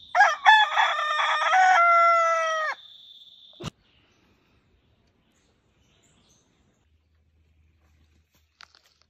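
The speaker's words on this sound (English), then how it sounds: "I even got a rooster and chickens." A loud, close rooster crow with a long drawn-out call lasting a few seconds, in a Ghana village, followed by a sharp knock and then near silence with a faint distant sound.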